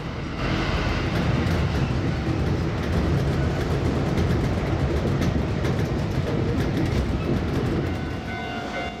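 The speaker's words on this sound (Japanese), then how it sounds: "西宮駅を過ぎると列車は芦屋駅を通過していきます。" A Kintetsu express train runs through Ashiya station on the Hanshin line, a loud continuous rumble and rattle of wheels on rails that stays steady for the whole passage, close by and without voices.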